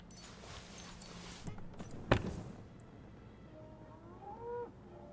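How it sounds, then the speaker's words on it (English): A cow moos in the video game Kingdom Come Deliverance, a faint, drawn-out low call toward the end, following a few footstep-like thuds and a sharp knock over quiet ambience. "Is that a cow?"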